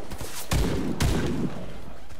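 Gunfire in the Warface game during a team deathmatch on the Hangar map, with two sharp, heavy blasts about half a second apart over a busy background of game noise.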